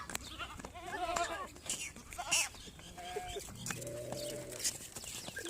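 Goat bleating on a village outing in Punjab, several wavering cries spread across the clip, fairly close, with chickens or birds and rustling farmyard noise around them.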